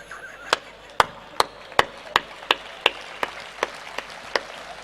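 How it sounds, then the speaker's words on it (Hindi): A few audience members clapping at a Hindi comedy poetry gathering, about a dozen sharp, evenly spaced claps, fairly close and distinct against a quiet hall, with no talking. "2-3 लोग ताली बजा रहे हैं"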